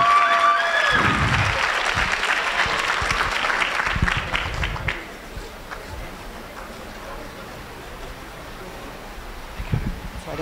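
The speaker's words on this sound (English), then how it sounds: "Let's give them a big round of applause." Audience applause at a middle school moving-up ceremony for chorus students, loud dense clapping for the first five seconds that fades into a quieter room with scattered claps and murmuring.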